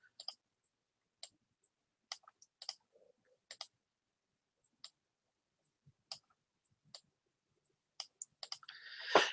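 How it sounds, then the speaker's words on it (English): Sparse, crisp clicks of a computer keyboard as a few words are typed for a graphic poster, isolated taps spaced irregularly over near silence, ending in a brief louder clatter. "I just want to type a few words."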